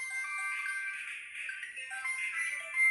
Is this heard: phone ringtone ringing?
yes